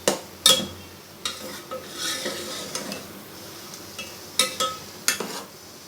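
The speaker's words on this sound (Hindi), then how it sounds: "इस टाइम बस इसको अब हाई फ्लेम पे भूनना शुरू कर देते हैं।" Cholaee saag with tomatoes frying on a high flame, a soft sizzle under repeated scraping and stirring, with several loud metallic knocks of a spoon against the pan, no talking.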